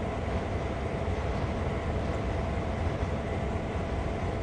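A freight train rolls on in Train Sim World 2 at Sand Patch Grade, a constant dense rumble and drone holding at an even level for the few seconds, with nobody speaking.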